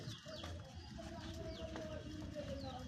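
Pigeons cooing steadily as a group, with low throaty coos and a few higher chirps over a busy background murmur, at a place where birds are being bought and sold.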